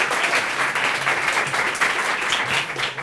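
A studio audience breaks into steady, dense applause, many hands clapping at an even loudness throughout with no break.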